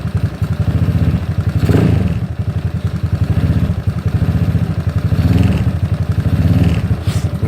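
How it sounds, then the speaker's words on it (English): A ZNEN ZN150T-9 150cc scooter engine (SSR Interceptor 150) revs steadily with a throbbing, pulsing drone, swelling in a few throttle surges over a continuous idle, close and loud with no talking. "So I'm gonna go ahead and pull the throttle."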